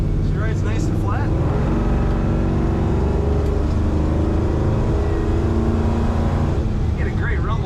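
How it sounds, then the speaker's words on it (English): A 1972 Chevrolet K10 4x4 truck's exhaust gives a steady, loud, deep rumble, with brief higher squeals near the start and end. "You get a great rumble from this exhaust."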